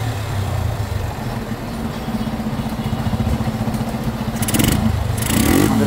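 A Yamaha Fazer motorcycle engine idles and then revs up smoothly after a carburetor setup, a steady close drone that rises in pitch near the end, no speech.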